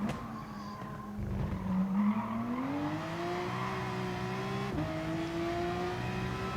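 A race car in GT Sport brakes hard, tyres skidding and squealing as the engine note drops through downshifts, then settles into a steady rising hum as it pulls away.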